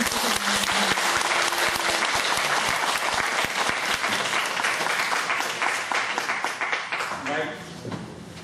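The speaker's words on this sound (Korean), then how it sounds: "큰 박수로 맞이해 주시기" Sustained audience applause welcomes a lecturer at a Korean training lecture, dense and loud from start to finish, with a voice faintly under it and the clapping thinning slightly near the end.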